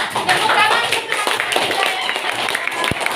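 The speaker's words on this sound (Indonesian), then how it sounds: "Tepuk tangan untuk kelompok 3 poin 100." Classroom clapping for a student group that earned points, a lively patter of pupils' hands with uneven bursts, fairly close and loud, with chatter and voices mixed in.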